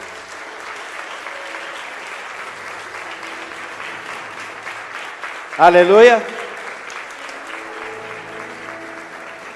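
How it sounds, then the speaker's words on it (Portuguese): A church congregation stands and applauds during a service, a steady, moderate wash of clapping throughout, briefly topped by a loud shout from a nearby voice near the middle. "Pode aplaudir o Senhor. O Miguel começou a aplaudir."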